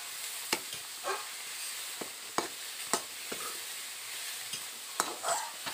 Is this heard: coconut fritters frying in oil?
yes